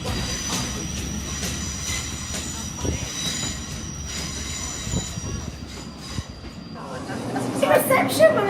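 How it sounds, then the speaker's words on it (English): Passenger train riding along the rails on the way to the airport, a steady rolling rumble with wheel squeal and clattering bumps heard from inside the carriage, growing brighter and louder toward the end. "we're on the train"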